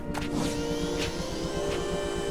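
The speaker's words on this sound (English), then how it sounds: "Was the spin sound just a vacuum cleaner?" The spin move in Sonic Boom: Rise of Lyric makes a dense, continuous whirring drone much like a vacuum cleaner, with rhythmic pulsing underneath. Brief swooshes cut through it, and it stays loud throughout the game audio.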